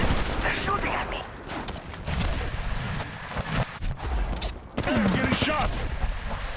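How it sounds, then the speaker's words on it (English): Rapid gunfire bursts from shooting enemies in the mobile battle royale Apex Legends Mobile, dense and continuous throughout with loud cracks and booms, under a voice speaking at times. "They're shooting at me."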